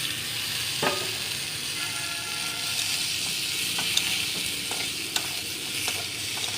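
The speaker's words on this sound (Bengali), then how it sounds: "এইভাবে আলুটাকে ভেজে নিতে হবে" Potatoes fry in a hot pan for a fish-and-potato dish. A steady, close sizzle carries throughout, broken by a few sharp scrapes and clinks of stirring.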